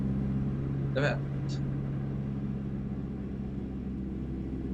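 A Toyota Land Cruiser 200 pulls along a road, its engine and tyre rumble droning steadily from inside the cabin while a person briefly speaks over it.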